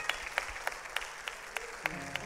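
A congregation claps during a church service: evenly spaced, rhythmic claps, about eight in a row, fairly faint, with a low steady tone underneath.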